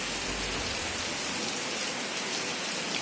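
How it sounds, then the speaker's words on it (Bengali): Heavy rain pours steadily during an afternoon storm, a dense, continuous hiss of drops striking surfaces close by, loud and unbroken throughout with no voices. "তেমন হচ্ছে অনেকক্ষণ হবে বৃষ্টিটা।"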